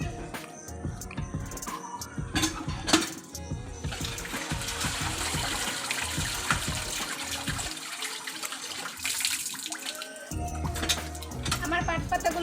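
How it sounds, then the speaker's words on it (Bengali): Jute leaves are washed by hand in water, with sloshing, splashing and trickling throughout and a voice talking at times. "আসুন, এখন আমি পাট পাতাগুলো ধুয়ে নিব,"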